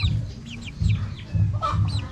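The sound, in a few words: three-week-old chickens clucking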